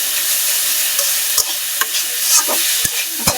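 Dhenki greens with onion and garlic are stirred in a sizzling pan, a steady close hiss punctuated by several sharp spoon scrapes and knocks against the pan.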